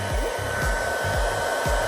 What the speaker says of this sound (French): son sèche-cheveux, c'est miracle